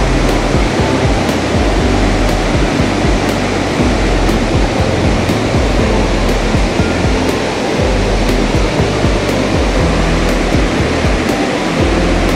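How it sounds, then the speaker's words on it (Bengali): The Mandakini river rushes along near Sonprayag on the Kedarnath route, a loud, continuous roar of fast-flowing water with no pauses, close and filling the whole scene. "এত সুন্দর জলের ফ্লো আমি কখনো দেখিনি।"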